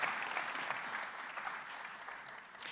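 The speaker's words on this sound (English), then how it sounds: "Ladies and gentlemen, please give a round of applause to Bill Schuette." Audience at a gubernatorial candidates' forum applauds Bill Schuette, a steady wash of many hands clapping heard from a distance at moderate volume, with no speech over it.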